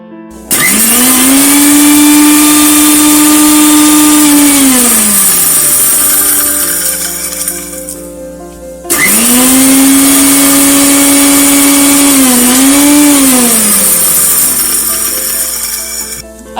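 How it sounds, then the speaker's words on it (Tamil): A kitchen mixer grinder whirs loudly as it grinds roasted masala spices for kadai paneer, running in two long bursts with a steady high motor whine that winds down between them. "இப்ப மிக்ஸி ஜார்ல மாத்தி அரைச்சிக்கலாம்."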